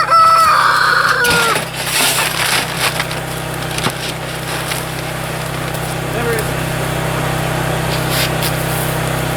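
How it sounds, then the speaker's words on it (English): Backyard chickens at feeding time cluck and mutter, with a short rooster-like crow near the start, over a steady low hum and scattered rustling. "I need safety glasses for feeding chickens."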